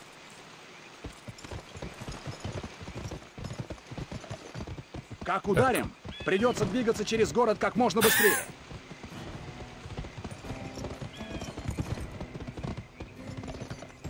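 Rhythmic clip-clop of horse hooves in the video game Gun runs steadily under a voice, with a louder burst of sound midway.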